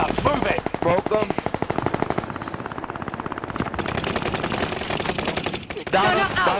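Rapid automatic gunfire rattles in long bursts during a battle royale video game firefight, loud and close, with a few brief voices and other game sounds at the start and end.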